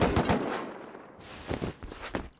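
AK rifle fire in the survival game Rust, several short bursts of shots spread across the moment, some louder and closer, with quieter gaps between.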